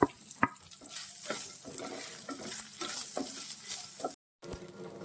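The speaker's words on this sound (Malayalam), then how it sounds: "അതിന്റെ കൂട്ടത്തിൽ തന്നെ നമ്മൾ എടുത്തു വെച്ചേക്കുന്ന തേങ്ങാക്കൊത്തും കൂടെ ഇട്ട് കൊടുത്ത് നന്നായിട്ടൊന്ന് വഴറ്റിയെടുക്കുക" Dried red chillies and coconut pieces sizzle in hot oil in a pan for an ivy gourd dish, a steady close frying hiss broken by soft stirring scrapes and taps, with a momentary dropout near the end.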